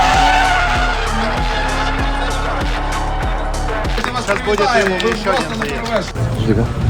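Drift cars skid in tandem around a new race track, engines roaring and tyres squealing loudly and continuously, with a commentator talking over the din.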